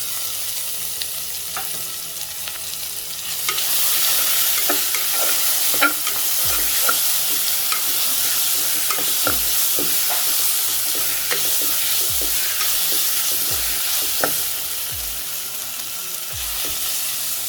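Tomatoes sauté in a pan for channa rice, a steady close sizzle with frequent spoon stirs and scrapes knocking against the pan at irregular intervals, and no talk.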